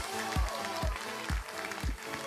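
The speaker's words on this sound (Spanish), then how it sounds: "Fuerte el aplauso para el tipo" Studio audience applause on a Spanish TV singing-contest show, a dense steady patter of clapping mixed with a rhythmic low thumping beat throughout.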